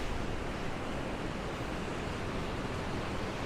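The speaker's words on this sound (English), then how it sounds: "it's too windy" A steady, dense roar of strong wind blowing hard and unbroken throughout, outdoors by a beach in Baku. No voices.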